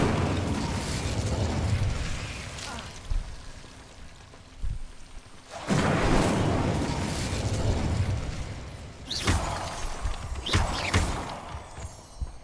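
Incendio fire spell blasts in Hogwarts Legacy erupt as several loud bursts of fiery noise that flare and fade over a constant rumbling game background.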